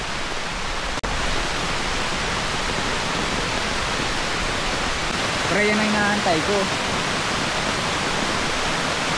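Heavy rain pours steadily near a campsite by Tri-Falls in Luisiana, Laguna, a dense, constant hiss throughout, with someone talking briefly over it partway through.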